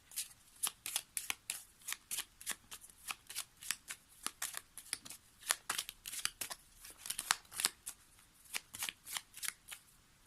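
Tarot cards shuffled by hand in continuous rapid riffles and snaps, close and crisp, with cards drawn during a French reading.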